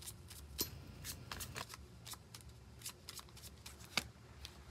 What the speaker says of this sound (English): Let's get a card from the Rebel deck.